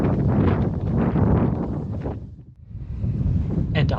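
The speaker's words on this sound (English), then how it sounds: "the wind picked up to 7 or 8 meters a second" Strong wind at 7 to 8 metres per second buffets the microphone on a coastal dune on Denmark's west coast. The roar is loud and rumbling, eases briefly near the middle, then surges back.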